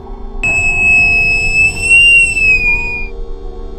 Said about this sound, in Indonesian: suara peluit kereta yang panjang kembali terdengar